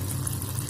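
Water poured into a cooking pot of mutton gravy with softened tomatoes, a steady continuous splashing pour lasting under a second, close and fairly loud with no talk.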